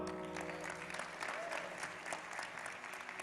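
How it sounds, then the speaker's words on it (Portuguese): An audience at a church youth service claps in a steady, even round of applause throughout, heard at a fairly low level from a short distance. "Uma salva de palmas ao Edwin."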